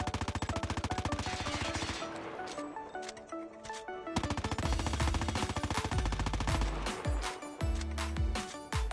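MX9 submachine gun in Call of Duty Mobile fires rapid full-auto bursts, dense rhythmic shots with mechanical clatter, broken by a short pause before another long burst.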